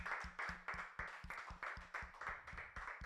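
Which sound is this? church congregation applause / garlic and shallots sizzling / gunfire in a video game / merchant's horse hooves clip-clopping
church congregation applause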